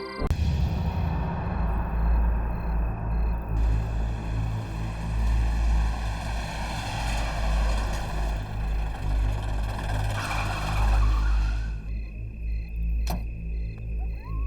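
An overheating car engine drones loudly and steadily, then falters and cuts out near the end, leaving a quieter tail.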